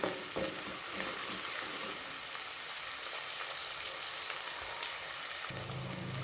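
Chopped onions and green chilies frying in a pan for a cucumber, egg and tomato curry, with a steady close sizzle throughout and a few stirring scrapes early on.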